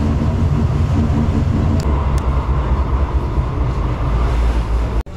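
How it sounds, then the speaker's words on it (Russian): Inside a new tram riding through Bucharest, a loud steady rumble of wheels and motor with constant interior hum, ending in a brief sharp break. "Трамвай новенький, кондиционер, холодно, хорошо. Тихонько едет, но новый трамвай."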